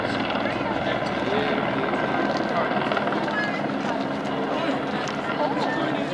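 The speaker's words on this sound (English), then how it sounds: "helicopters." A helicopter drones steadily overhead, a dense continuous rotor and engine roar filling the whole stretch while people talk beneath it.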